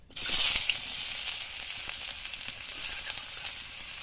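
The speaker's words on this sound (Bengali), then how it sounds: "কড়াইতে এখন মা পেঁয়াজগুলো ছেড়ে দেবে" Onions fry in hot oil in a kadai (wok) while a Bengali pabda fish curry is made, giving a loud, steady broadband sizzle that swells at the start and holds for a few seconds, with faint scraping stirs and no talking.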